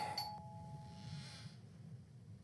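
A doorbell rings in a horror video game, a single bright two-tone chime at the start that fades quickly into a low ambient hum.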